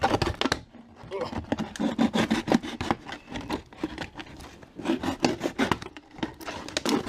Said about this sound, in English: Just take your knife. I'm sure this camera's going to jiggle. Just give it a quick cut around the top.